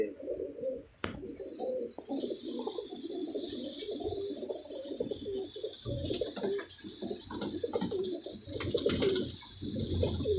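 Paired pigeons, including slate-grey birds, cooing in soft repeated throaty calls all around, with light chirps and fluttering throughout, close by and moderately quiet.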